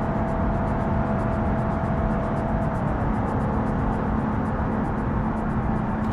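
Simulated car engine from the BeamNG driving game, played on a MOZA R9 or CAMMUS C12 sim wheel, holds a steady broadband drone with a faint rising tone, continuous and fairly loud throughout, with no voices.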